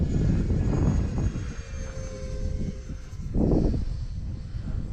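Small E-flite Habu SS 50mm electric ducted-fan RC jet flying aerobatics: a loud, rushing fan whine swells and fades as it passes overhead, with a second close surge near the end.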